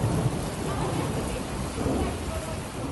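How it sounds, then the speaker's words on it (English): Heavy rainfall roars steadily through a London thunderstorm, with rumbles of thunder blended into the dense, loud wash of rain and no voices. "Thunder and rainfall."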